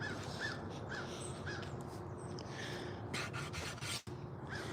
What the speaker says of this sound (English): I don't know whether y'all can hear all these crows and everything.